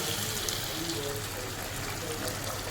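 Hot water pours steadily into a pan of chana dal and jackfruit seeds, a continuous rushing hiss that holds at an even level throughout.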